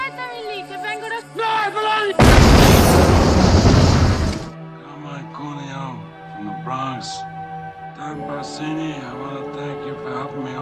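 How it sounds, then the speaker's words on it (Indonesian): A sudden loud car explosion bursts out over background music and lasts about two seconds as a roaring, crackling rush, then fades back into the score. "Mobil itu meledak."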